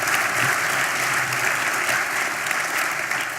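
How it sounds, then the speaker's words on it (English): Sustained, dense applause from an audience at a chamber of commerce annual awards dinner, loud and steady throughout with no break in the clapping. "Let's give our community a rousing round of applause for the legacy we each are creating and for what we are creating together."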